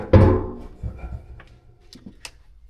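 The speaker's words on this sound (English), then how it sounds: "let me flip this tank over." A stamped metal fuel tank is flipped over, giving one heavy hollow thunk near the start and then a few lighter clunks and knocks as it settles, close by with no talking.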